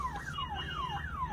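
An ambulance siren alert sweeps repeatedly in a fast up-and-down electronic wail, steady and moderately faint, with no voices over it.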